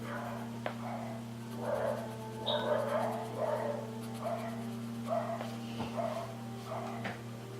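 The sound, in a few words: neighbours' dogs barking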